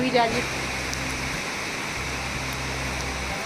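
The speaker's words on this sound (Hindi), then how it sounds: "और देखिए बारिश तब से हुई जा रही है।" Rain falls steadily as a broad, even hiss that fills the whole stretch, with a brief voice at the very start.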